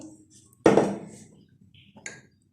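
Chopped ingredients for malai seekh kabab, including capsicum, drop into a kitchen chopper with a sharp hollow clunk, followed by a softer knock a moment later, close up in a quiet kitchen.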